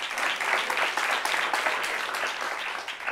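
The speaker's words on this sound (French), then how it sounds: "On l'applaudit très fort pendant qu'elle arrive." An audience applauds loudly and steadily as a woman makes her way up, a continuous dense wash of clapping with no gaps.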